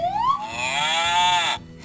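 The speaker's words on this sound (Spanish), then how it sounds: "¡Vaca!" A cow lets out a single long, drawn-out moo that rises in pitch then holds steady, loud and close, before cutting off abruptly.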